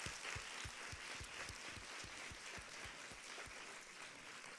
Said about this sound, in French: Je pense que vous pouvez encore les applaudir.